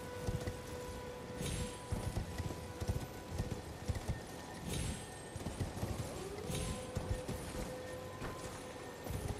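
Rhythmic hoofbeats clop steadily as a horse gallops in Elden Ring, with a game-like musical tone and ambience underneath, no talking.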